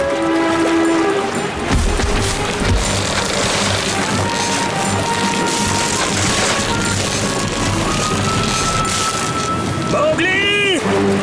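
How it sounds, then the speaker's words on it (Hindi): A cartoon waterfall in a jungle adventure gives a dense, continuous rushing roar, loud and steady throughout. Voices are heard over it, and bright tonal sound effects rise near the end. "आगे तो झरना है।"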